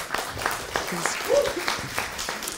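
A conference audience in Geneva applauding, dense clapping that is fairly near and steady throughout the short stretch, with some voices mixed in.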